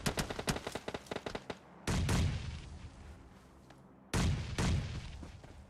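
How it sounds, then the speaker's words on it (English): Grenade explosions in the battle royale game PUBG Mobile during an esports match: a rapid string of sharp gunfire cracks, then two heavy booming blasts with rumbling decay, loud and close. "Just a couple grenades being played"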